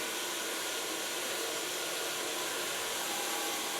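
A Kione blow dryer running steadily at a hairdressing salon, a loud continuous airy roar and hiss filling the whole stretch without break.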